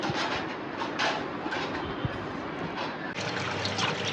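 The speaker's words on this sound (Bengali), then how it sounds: "নেহারি আমরা সুন্দর করে ধুয়ে লইতেছি, পরিষ্কার করে বাচ্চি ভালো মতো সুন্দর করে ধুইলাম" Beef trotters for nehari being washed by hand in water, a steady close trickling and splashing with occasional knocks, no talk.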